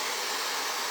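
A hair dryer blowing steadily on a cool setting, a loud continuous airy whoosh with no pauses.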